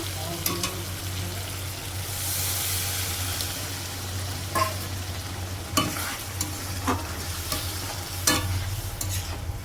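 Prawn masala sizzles steadily in oil in a pan as water is added, with a few sharp stirring scrapes and clatters breaking through the constant frying hiss.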